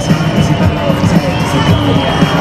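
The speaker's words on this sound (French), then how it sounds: "les applaudissements de Normand pour Maxime Mazot" Crowd at the 2008 Marmande international grasstrack race cheering and applauding rider Maxime Mazot on his honour lap, a loud continuous roar of voices and clapping mixed with engine drone.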